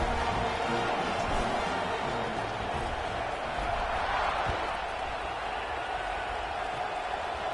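A stadium crowd roars in the NCAA 26 college football video game, a dense, steady wash of cheering noise that holds at an even level throughout, with commentary voices mixed in.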